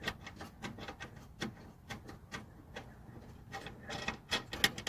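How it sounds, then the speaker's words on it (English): Screws are being unscrewed from a taillight on a 2010–2020 Hyundai Elantra, giving a series of faint, close, irregular small clicks and ticks with short gaps between them. "Okay, so we got to unscrew this."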